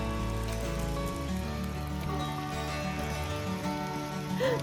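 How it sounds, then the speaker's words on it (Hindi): Rain falls steadily at a monastery in Dehradun, a continuous patter on surfaces that stays even and fairly close throughout, with tonal background sound running beneath it and no talking. "बारिश में मजे कर रही हैं ये,"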